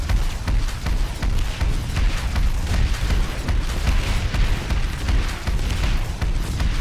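Rapid booming shots from a Gatekeeper rocket launcher fire in a video game, coming as a dense, continuous run of loud bursts with no pause between them.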